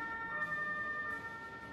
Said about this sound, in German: Jetzt kann ich den Rettungswagen holen.